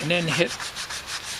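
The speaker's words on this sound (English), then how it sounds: "a little more sanding on here" Sanding a touch-up spot on a 1990 van body: someone speaks briefly, then close, rhythmic rubbing strokes of abrasive on the metal panel repeat steadily.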